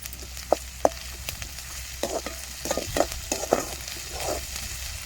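Onions, green chillies and ginger garlic paste frying in oil for a mushroom biryani, with scattered stirring scrapes and soft sizzling, close and fairly quiet, no talking.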